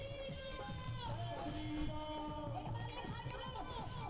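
Large crowd gathered at a Lok Sabha election rally for PM Narendra Modi in Bangaon, a dense murmur of many voices and movement with scattered shouts, steady and moderately distant throughout.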